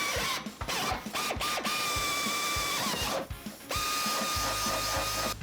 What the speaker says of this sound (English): We're going to do this using a 1/2-inch drill bit.